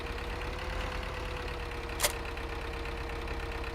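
A tractor engine idles in Farming Simulator 2013, a steady low drone that hums evenly throughout, with one brief sharp click partway through.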